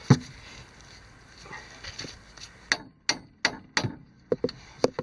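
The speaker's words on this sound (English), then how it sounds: "I'm just going to hit it a couple times with the rubber mallet" A rubber mallet knocks on a car brake part during a Nissan Versa brake job: a handful of sharp, separate hits that grow more frequent toward the end, with quiet gaps in between.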